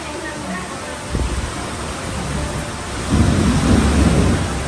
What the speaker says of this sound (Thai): ไปโดนพายุอีกแล้วครับ